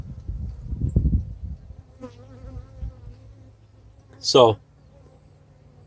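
Bees buzzing in an opened hive crowded with adult and newly emerged white brood bees, a close, sharp drone rising briefly after a voice speaks over low hum.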